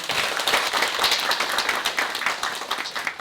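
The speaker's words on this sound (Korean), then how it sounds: "큰 박수 부탁드립니다." Steady applause from an audience at a Buddhist testimony gathering on Jeju 4·3, with many hands clapping together in a dense, even wash, close and moderately loud and free of speech.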